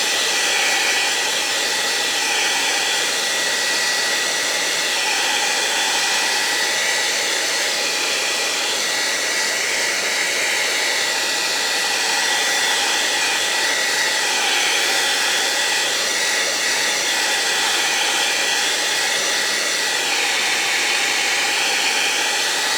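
Handheld hair dryer blowing on a garden urn-and-flowers craft piece, a steady loud whooshing roar with a faint whine that runs unbroken throughout, close and alone.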